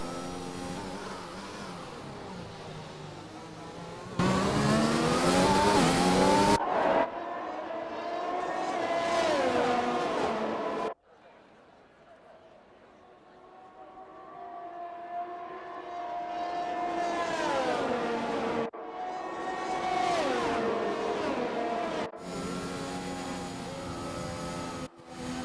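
Formula 1 cars on the formation lap at Belgium in an F1 video game on Xbox, engines whining and rising in pitch as they pass, some loud and near, others fading into quieter stretches, with no talk.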